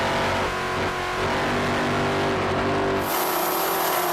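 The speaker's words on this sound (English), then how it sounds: "Budweiser is a 37-foot Cougar powered by two 800-horsepower Mercury engines with harness and drives" A 37-foot Cougar racing powerboat driven by two 800-horsepower Mercury engines roars at full throttle during a lake Grand Prix, a loud steady engine drone that shifts pitch near the end.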